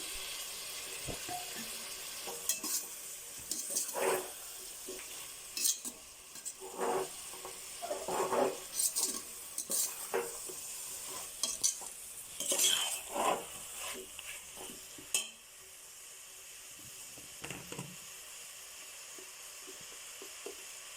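Mushrooms for a mushroom biryani are stirred in a frying pan: a soft, steady sizzle broken by scattered clinks and scrapes of a utensil, then quieter frying toward the end.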